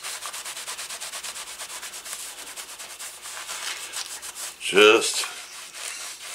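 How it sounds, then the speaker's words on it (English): A cloth rubs briskly over a leather 1911 holster in quick, regular back-and-forth strokes, close up, with a brief spoken word partway through. "giving everything a nice quick buffing"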